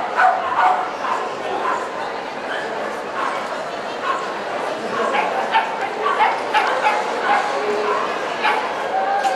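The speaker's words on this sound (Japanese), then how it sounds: "ワンワン吠えてる。" At the 2012 FCI agility world championship, a small dog barks and yips repeatedly with some whimpering, in quick irregular bursts over crowd noise, while commentators talk over it.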